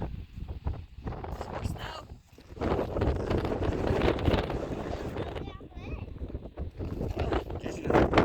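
Strong wind gusts buffet the open summit of Steens Mountain, roaring loudly and unevenly through the whole stretch with near, rumbling bursts, while a person speaks over it.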